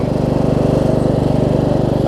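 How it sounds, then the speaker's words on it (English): A Craftsman LT1000 riding mower runs with its blades engaged, the blade brakes rubbing with nothing on them; a loud, steady engine drone with a fast regular pulse holds close by, alone and unbroken. "That noise is just because the blade brakes don't have anything on them."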